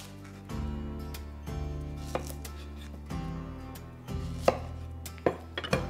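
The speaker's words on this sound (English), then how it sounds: "Now we'll finally chop our shallot." A knife chops a shallot on a cutting board in scattered soft taps and a few sharper knocks, quiet and close over a low steady hum, with no talking.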